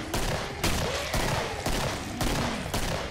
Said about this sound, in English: You'll know it from all the grenades that are going off.